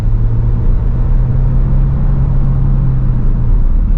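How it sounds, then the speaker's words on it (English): A 2024 VW T-Roc R-Line petrol engine revs steadily as the car accelerates in second gear, a loud constant droning rumble with a rising tone, heard from inside. "So second gear, foot down, makes a bit of a noise."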